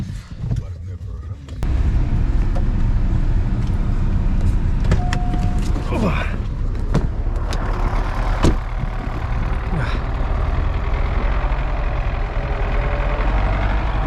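An MTZ-80 tractor engine runs steadily under load while driving through a snowy village road, a continuous loud low rumble that starts abruptly after a quieter opening and holds even throughout.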